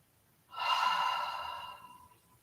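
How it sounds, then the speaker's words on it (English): A single deep, slow breath during a yoga practice, a soft airy exhale rising and fading over about two seconds, close and alone. "One more time, deep breath in"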